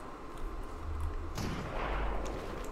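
Gunfire in Fortnite Battle Royale, faint distant shots with a sharper crack in the middle and low booming rumble around it, heard alone without talk.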